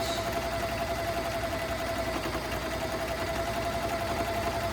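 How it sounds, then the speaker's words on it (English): A sewing machine runs slowly and steadily while hemming stretchy pants, giving a continuous close mechanical hum with a faint whine and no breaks for nearly five seconds. "And you can go faster with the machine. I don't go fast with it. I just like to go slow."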